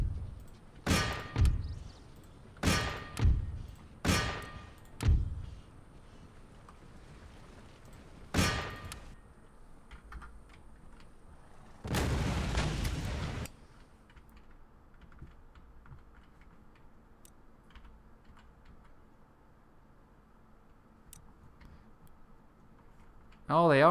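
Mortar fire in an Empire Total War battle: a quick series of sharp, separate blasts, then a longer, rougher burst against a quiet background.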